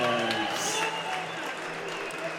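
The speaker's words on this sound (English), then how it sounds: "could we please have a big round of applause for both of our fighters?" A crowd at a boxing event applauds both fighters after the bout, steady clapping heard beneath a ring announcer's amplified voice.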